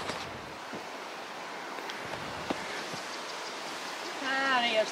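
Steady broadband rush of a flowing stream on the Karhunkierros trail in Finland, continuous and fairly near, with a brief chirping bird call near the end.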